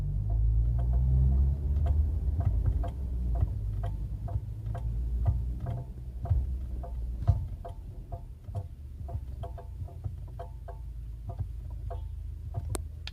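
A Chery Tiggo 7 Sport making a clicking, knocking noise as the brake is pressed: a steady series of sharp light ticks at an even, clock-like pace over a low rumble, fairly faint and close, without talk.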